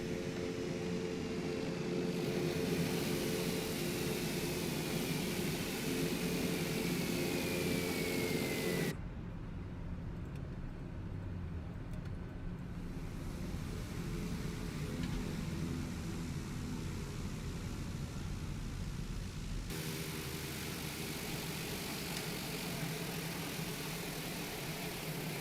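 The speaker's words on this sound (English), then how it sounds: "Love that prop spool down." A TBM 850 turboprop in Microsoft Flight Simulator 2020 spools down its propeller after shutdown: a steady, loud engine-and-prop roar drops sharply partway through, then fades into a quieter, lingering whir with no talking.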